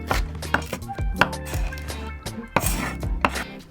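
A knife chops an apple into thin slices on a cutting board, a quick series of close, sharp knocks in an irregular rhythm with a few heavier thuds.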